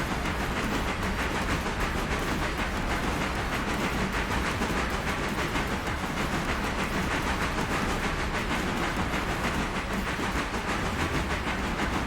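Train rolling along toward the end of track with logs aboard, a dense continuous rumble and hiss with rapid rhythmic clatter, loud and unbroken throughout.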